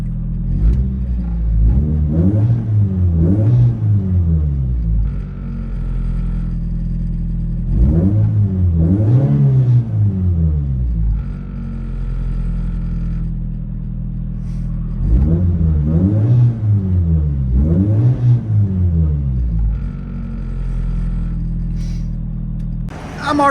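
Inside a 1987 Toyota MR2 with the 1.6L 4A-GE engine, repeated bursts of revving rise and fall in clusters over a steady idle rumble, loud and close from the cabin.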